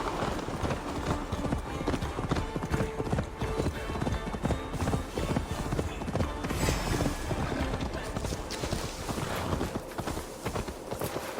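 Horse hooves clatter in a fast, continuous galloping rhythm in the Assassin's Creed Valhalla video game, loud and close throughout, with a voice speaking over the hoofbeats.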